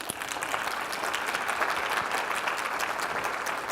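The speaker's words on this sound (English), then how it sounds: "Let's give him a round of applause." A conference audience breaks into a steady round of applause, many hands clapping together in a dense, even wash that holds for several seconds with no voices over it.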